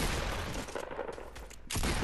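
Dense, continuous gunfire in the video game Fortnite, loud and near, briefly easing in the middle before a heavy burst returns at the end.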